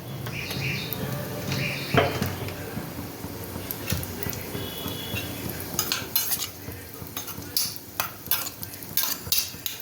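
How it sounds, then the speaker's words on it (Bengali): Shrimp frying in oil in a wok, with a utensil scraping and clinking against the pan in bursts over a steady sizzle, close up, with brief speech. "আবার ওই একই কড়াই তেল দিয়ে দিচ্ছি চিংড়ি মাছটা ভাজার জন্য।"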